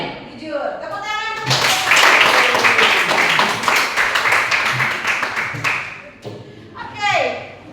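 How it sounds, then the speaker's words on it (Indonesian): A classroom group clapping hands, a loud burst of applause swelling in after brief talk and fading before a voice speaks again at the end. "Jujur, tepuk tangan."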